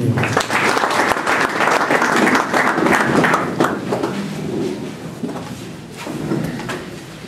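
A church congregation applauding during worship, loud dense clapping filling the room for several seconds before gradually thinning out, with a few voices mixed in underneath.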